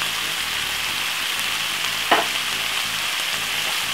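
Vegetables with soy sauce stir-fry in a pan with a steady, loud sizzle throughout, broken briefly by a single scrape of stirring midway, no talk.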